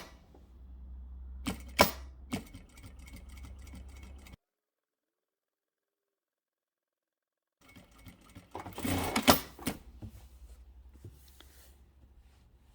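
Sewing machine top stitching around a garment neckline to hold the facing down, heard as steady close mechanical runs in two bursts separated by a long silent pause, with brief sharper clicks among the stitching.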